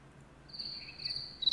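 Crickets chirping as a comedic sound effect, a thin high chirp that starts after a brief quiet and continues faintly, with a small rise at the end.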